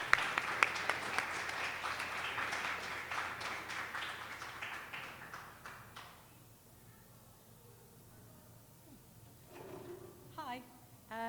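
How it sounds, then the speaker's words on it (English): Audience applause at an open mic reading night, a dense burst of clapping from a room of listeners that fades out after about six seconds, followed by quiet and then a voice starting to talk. "Big round of applause."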